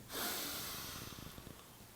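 A single strong breath drawn in during a guided breathing exercise, loud and close, with a rushing airy onset that gradually fades into a softer, steady exhale-like hiss.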